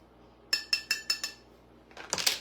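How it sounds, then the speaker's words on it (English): A metal measuring spoon knocks five times in quick succession against a bowl while mixing dry cake ingredients for a poppyseed cake, followed by a denser cluster of clinks and scraping, close and clear with no talking. "I'm gonna mix that together, just using my measuring spoon."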